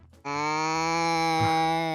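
A cow moos in the Minecraft video game, one long, loud, nasal call that starts abruptly and holds steady for nearly two seconds, heard alone.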